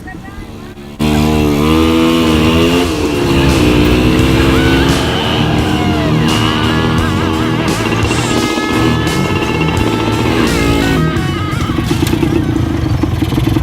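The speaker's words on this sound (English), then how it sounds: "It's my first ride in a tricycle." A motorcycle tricycle's engine drones loudly and close during a ride, rising and falling in pitch as it revs and shifts, with a voice speaking over it.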